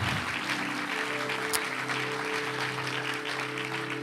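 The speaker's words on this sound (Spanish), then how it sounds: "Dale un fuerte aplauso al Señor" A church congregation applauds in praise, a steady wash of clapping held at moderate level, with a sustained musical drone underneath and one sharp accent midway.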